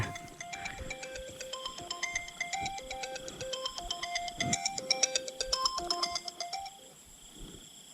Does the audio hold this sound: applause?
no